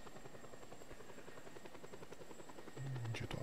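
A helicopter flying in Just Cause 2, its rotor giving a steady, fast, close thrum with a rising engine whine near the end, heard without talk.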